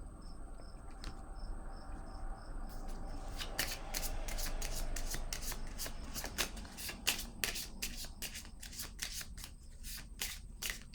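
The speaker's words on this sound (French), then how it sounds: "Je vais piger une autre carte ici." Playing cards are shuffled and drawn in a quiet room. Soft sliding comes first, then a rapid run of crisp, close riffling snaps and flicks. A faint steady chirp like a cricket sounds in the background, and there is no talking.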